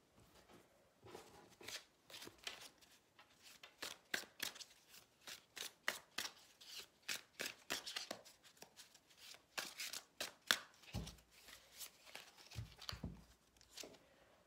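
Tarot cards are shuffled and drawn by hand, producing a long run of quick riffling flicks and soft slaps at close range, with brief pauses and a few duller thumps near the end.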